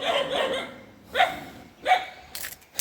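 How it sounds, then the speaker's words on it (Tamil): Dogs in a hidden tribal village in the forest bark in three sharp, separate bursts, fairly close, with short quiet gaps between. "நாயெல்லாம் குலைக்க ஆரம்பிச்சிருச்சு"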